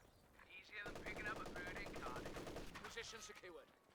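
An MG34 machine gun fires rapid bursts in a Company of Heroes 2 battle against an infantry section squad, with a sustained loud rattle alongside other gunfire and battle noise and a narrator talking over it.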